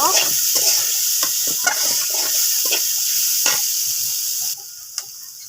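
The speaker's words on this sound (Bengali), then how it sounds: "ভালো করে একটু ভাজা ভাজা করব।" Chopped onion and green chilli frying in a pan, a close steady sizzle with repeated scraping stirs, dropping quieter near the end.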